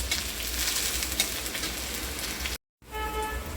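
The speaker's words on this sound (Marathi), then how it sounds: "तेलामध्ये असे तळून घ्यायचं कारलं" Bitter gourd pieces fry in hot oil with a dense, steady sizzle and crackle throughout, broken by a brief silent cut near the end before the frying resumes.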